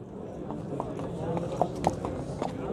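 A horse walks with its hooves clip-clopping in a few uneven knocks over a steady background, while someone talks throughout.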